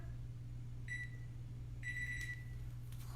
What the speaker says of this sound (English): Hey, you got that microwave going. Turn that off.